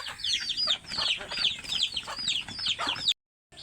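Chickens cluck and chatter close by, repeated short squawking calls overlapping in quick irregular bursts for about three seconds before cutting to silence.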